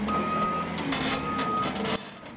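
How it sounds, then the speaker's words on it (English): Heavy equipment sounds a steady series of loud reversing beeps while pulling junk cars from an auto salvage yard in the Trinity River floodplain in Dallas County, with engine rumble underneath throughout. "Heavy equipment pulling junk cars out of the Trinity River floodplain"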